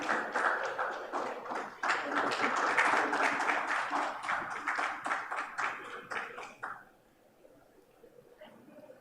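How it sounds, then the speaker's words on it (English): An audience at a 6G standardization workshop claps in a dense, sustained round of applause that thins into scattered claps and fades out after about seven seconds. "Let's have a round of applause for Mr."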